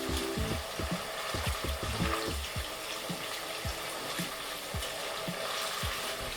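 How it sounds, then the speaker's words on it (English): Tomato puree is stirred in a hot pan, making a steady wet sizzle with repeated scraping strokes and soft clicks of the spoon, close and continuous with no talking. "Just need to keep stirring so that I'm able to combine it nicely."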